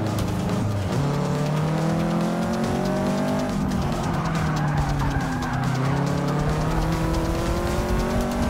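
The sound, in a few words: race car engine in the video game Forza 6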